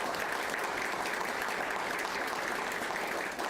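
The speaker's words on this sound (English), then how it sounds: "So let's give all of our retirees a round of applause." Board of education meeting audience applauds the retirees in a steady, even round of clapping, moderately loud and continuous, with no talk over it.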